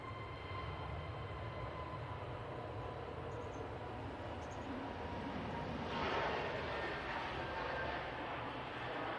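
An Airbus A321neo airliner takes off at Manchester Airport, a distant, steady jet engine roar that holds for several seconds and swells slightly toward the end, with no talk over it.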